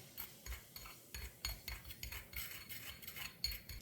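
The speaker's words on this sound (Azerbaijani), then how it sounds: "Qarışdırıram." Baking soda and apple cider vinegar get stirred in a bowl for a cake batter, a faint, quiet series of rhythmic scraping clinks of a spoon against the bowl, repeating roughly twice a second with no talk.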